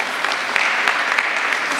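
Steady applause from an audience at a Somali community gathering in Ohio or Minnesota, dense and even with a few sharper claps standing out, continuing alone without speech.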